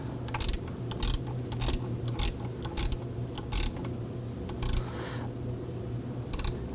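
A ratchet clicks in quick bursts as it tightens the idler pulley on a 2005–2009 Subaru Legacy 2.5L engine, several close, rhythmic clicking runs separated by short pauses, heard alone.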